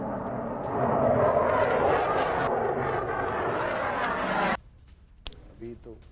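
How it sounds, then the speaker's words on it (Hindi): Indian Air Force fighter jets taking off over northern Kashmir, a loud, sustained roaring rush that swells after the first second and holds for about four seconds, then cuts off sharply, leaving faint background sound. "किस तरह से भारतीय वायुसेना के लड़ाकू विमानों ने उड़ान भरी"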